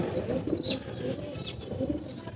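Frightened pigeons at a loft make low cooing murmurs throughout, with a few brief higher calls or wing sounds, close and steady, no voices.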